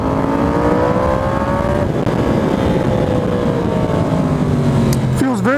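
A 2020 Yamaha R1 with a 15-tooth front sprocket holds a loud, steady engine drone around 5,600 RPM with a slight pitch rise, then a quick throttle wobble at the end.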